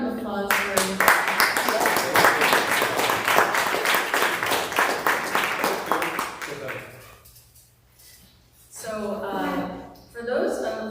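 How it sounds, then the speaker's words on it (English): An audience at an artist talk gives a big round of applause, loud dense clapping for about seven seconds that fades out before a voice starts speaking. "if you guys don't mind giving a big round of applause"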